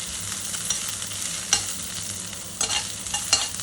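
Green chillies sauté in a pan for eggplant and banana poriyal, giving a steady faint sizzle with a few sharp stirring scrapes, with no talk.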